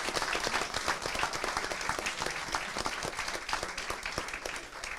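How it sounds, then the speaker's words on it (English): An audience at a school district board meeting applauds students who earned AP Scholar honors. Steady, dense clapping fills the room and continues throughout at fairly close range, with no one speaking. "Let's give them all a round of applause"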